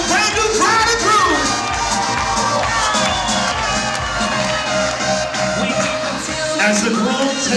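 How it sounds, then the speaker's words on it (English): A wedding crowd cheers for the bride and groom's kiss, a loud sustained roar of shouting and whooping voices with music playing underneath, continuous for the whole stretch. "the crowd goes crazy"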